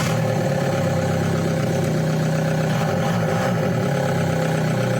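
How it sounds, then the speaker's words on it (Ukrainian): A Volkswagen Touran 1.9 TDI diesel engine idles on its first start after an engine replacement following a knocking failure, a loud, close, steady rumble with a continuous low drone. "Зараз будемо робити перший запуск."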